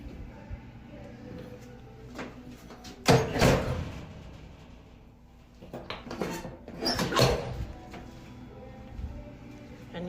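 A car door with an emergency handle is pushed open from inside; two loud bursts of clunking and rattling about three seconds apart stand out over a steady low hum, close to the listener.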